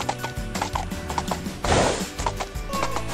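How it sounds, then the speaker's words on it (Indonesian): A horse's hooves clip-clop in a steady, close rhythm during a children's horse ride, with a brief louder rush of noise partway through. "anak-anak suka sekali naik kuda ini nih"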